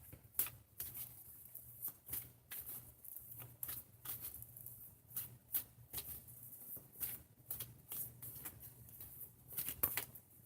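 Earth Magic Oracle cards being shuffled by hand, a close, quiet run of crisp riffling flicks and soft patters repeating irregularly throughout, with no talking.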